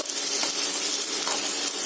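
Tomatoes and spices fry in a pan with a loud, continuous close-up sizzle and hiss that stays even throughout, with no voices.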